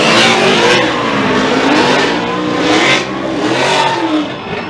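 Formula Drift cars, a Ford and a Chevrolet, drifting side by side at Palm Beach, with loud, sustained engine roar and revving that rises and falls as the cars slide through the course, close and continuous.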